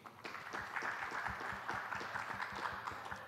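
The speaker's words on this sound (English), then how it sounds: "A round of applause for him." Audience at a housing expo panel on affordable homes gives a round of applause for a panelist, a steady patter of many hands clapping at moderate distance, fairly even in rhythm throughout.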